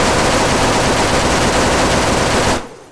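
Loud, sustained AK-12 automatic rifle fire in ArmA 3, a dense continuous burst of sharp cracking shots that cuts off abruptly near the end.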